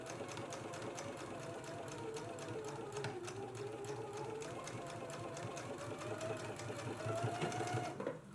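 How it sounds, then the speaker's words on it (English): A sewing machine runs in a fast, steady stitching buzz while top stitching a dress pocket flap at quarter-inch, close and continuous with a slight rise near the end. "let's go ahead and do our top stitch right here along the upper edge at a 1/4 inch"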